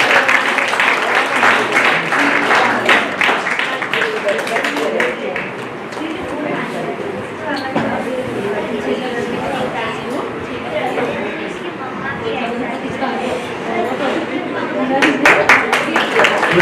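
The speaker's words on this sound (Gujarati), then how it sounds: "તાળીઓથી નિલેશભાઈને પણ વધાવીએ." An audience at a Bhagwat Katha gathering claps to welcome an honoree, a long stretch of sustained, fairly loud applause mixed with chatter and voices, swelling again toward the end.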